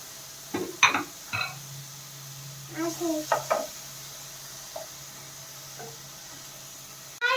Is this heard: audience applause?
no